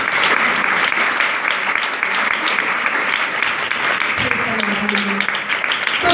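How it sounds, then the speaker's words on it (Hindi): A congregation honoring Jesus bursts into loud, dense applause that holds steady throughout, with a voice rising briefly near the end. "यीशु के लिए जोरदार तालियां।"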